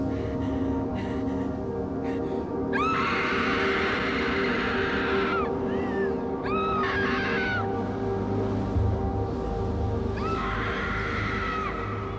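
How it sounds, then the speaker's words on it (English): Storm wind howls on a steady roar, with rising and falling shrill wails that sound like a scream cutting through repeatedly over the constant rushing noise. "It sounded like a scream. That's what the wind sounds like tonight"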